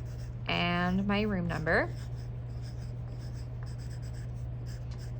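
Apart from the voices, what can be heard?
writing with a pen on paper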